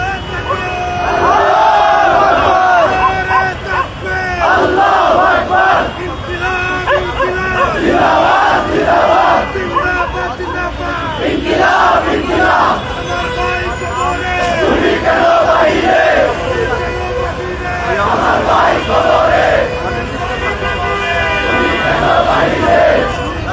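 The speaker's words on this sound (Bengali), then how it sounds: "এখনো পর্যন্ত বিভিন্ন স্লোগান দিয়ে যাচ্ছেন" A large protest crowd at the Shahbag blockade chants slogans in loud rhythmic bursts, many voices rising and falling together in repeated call patterns over a constant background roar.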